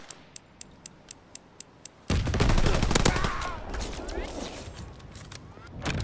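Pistol shots in a search and destroy match of a video game: a row of evenly spaced light ticks, then a sudden loud burst of gunfire that stays dense and rumbling before trailing off.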